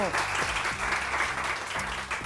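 Studio audience on a morning TV show applauding a doctor guest, with steady, continuous clapping throughout and faint voices underneath.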